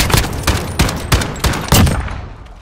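Loud, close gunfire in Call of Duty Modern Warfare, a steady series of six heavy shots roughly a third of a second apart, each booming with a reverberant tail that fades at the end.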